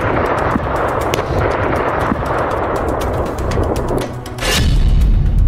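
Blasts at a missile depot, a rough continuous rumble with sharp cracks scattered through it, ending in a heavier, louder boom near the end.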